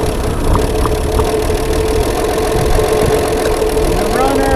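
A 1956 Chevy Bel Air engine idles steadily right after its first start in 48 years, a continuous close rumble with faint voices underneath.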